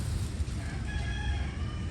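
A turkey calls out close by, a wavering gobbling cry over a low rumble of outdoor background noise.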